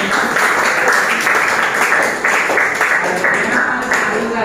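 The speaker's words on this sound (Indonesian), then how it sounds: "Kita beri tepuk tangan dulu." A classroom full of students claps steadily, a dense, continuous round of applause that carries on without pause.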